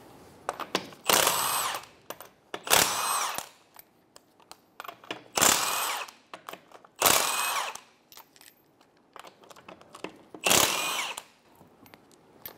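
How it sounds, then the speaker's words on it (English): A power tool spins off the 19 mm lug nuts on a 2012-2016 Subaru Impreza, five loud, short whirring bursts evenly spaced, separated by quieter clinks and handling noises. "Remove the 5 19-millimeter lug nuts."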